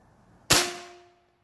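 A single shot from a Benjamin Bulldog .357 air rifle, a sharp loud crack followed by a ringing metallic decay, close and isolated with no talk.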